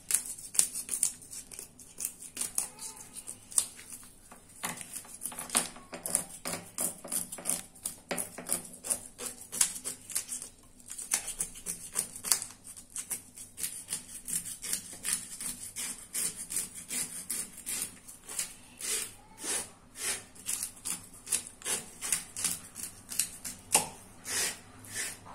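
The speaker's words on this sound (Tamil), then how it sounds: "அந்த சைடு வந்து நம்ம செதில்லாம் எடுத்தாச்சு" A fish is scaled before cooking, with a steady run of dry scraping and rasping strokes that grow more rhythmic toward the end, close and fairly quiet, with no talk.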